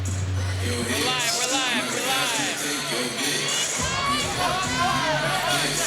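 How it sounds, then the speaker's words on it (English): Greek community crowd in Atlanta, Georgia cheering for their fighter at a live fight tournament, a loud, continuous roar of shouts and whistles that swells throughout. "See the Greek community out in full force here in Atlanta, Georgia, cheering on their man, ANDREAS Katzourakis"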